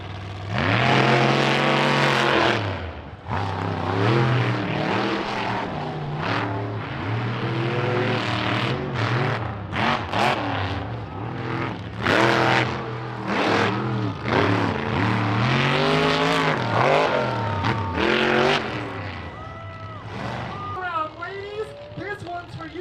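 Monster trucks race in an all-female final at an All Star Monster Trucks event in Maryville, engines roaring and revving loudly throughout under continuous arena commentary and crowd noise.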